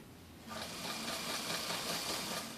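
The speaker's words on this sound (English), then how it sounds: "that's the basic concept of sewing with a machine and doing a seam" A sewing machine stitches a seam, its motor whirring on abruptly after a brief quiet start and running steadily at close range.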